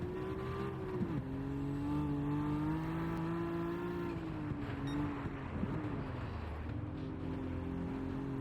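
Race car engine in Gran Turismo 7 racing on snow against a Nismo R32, a steady sustained drone with shifting revs throughout, no talking.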